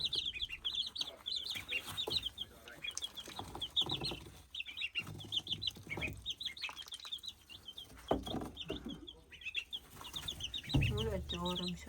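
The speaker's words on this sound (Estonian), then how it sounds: "siin osakonnas on meil nüüd siis lõpuks hauduvad kanad" Brooding hens in a farm coop cluck softly and repeatedly, with occasional wing flaps and scattered bird calls, all faint and somewhat distant.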